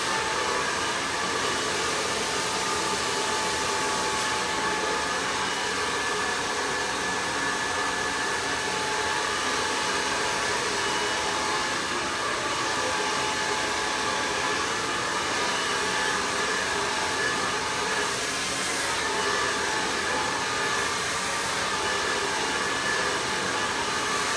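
A hair dryer blows steadily on medium heat for the whole stretch, a continuous close airy roar with no talk over it.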